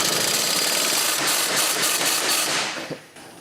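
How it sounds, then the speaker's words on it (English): An impact wrench hammers continuously and loudly up close while cracking loose a car's wheel hub, then winds down and stops near the end. "We'll grab an impact here."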